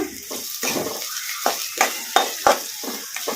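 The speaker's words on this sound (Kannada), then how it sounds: "ಎಣ್ಣೆ ಕೂಡ ಬಿಸಿಯಾಗಿದೆ ಈಗ ಇದಕ್ಕೆ ಉಳ್ಳಾಗಡ್ಡಿ ಹಾಕೋಣ ಎಣ್ಣೆಗೆ ಕಲಿಸ್ಕೊಂಬಿಡೋಣ" Sliced onions tossed into hot oil in a kadai, crackling and sizzling with sharp pops and stirring scrapes in a quick irregular rhythm, close and clear.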